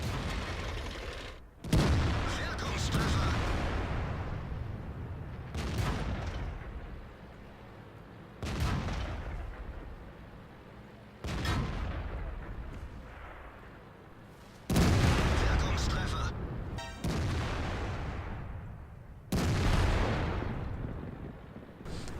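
Heavy tank cannon blasts from a tank battle game, one booming shot after another at intervals of a few seconds, each with a long rumbling decay and mechanical clatter between the firings.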